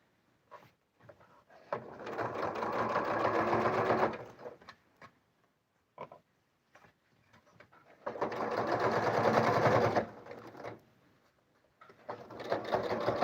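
A sewing machine runs a straight quilting topstitch with a long 13.5 stitch on a patchwork zip pouch, in two long steady bursts with a short start at the end, loud and close with no talk.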